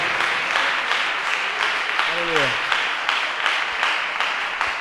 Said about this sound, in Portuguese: Pode dar uma salva de palmas para Jesus e glorificar ao teu Senhor.